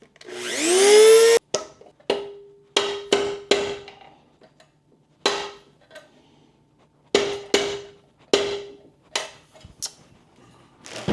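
Cutting wheel grinding into a stuck metal shaft during water pump repair on a Yamaha 200 HPDI outboard, heard as a loud sustained burst followed by a series of short, repeated grinding bursts separated by pauses.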